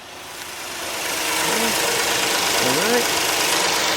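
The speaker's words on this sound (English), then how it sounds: "Car started up on the first shot with the HULKMAN 85S." A car engine idles right after being jump-started with a HULKMAN 85S jump starter, a steady close rumble with a brief tone sliding up and down, while someone speaks briefly.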